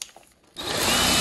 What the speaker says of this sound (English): So I'm going to be using a step bit to drill the holes in the back of this box.